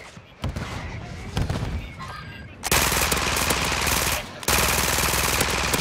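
Rapid automatic gunfire rips through a video game match. It comes as loud, dense bursts of shots with a short pause between volleys, and faint game sounds sit beneath it.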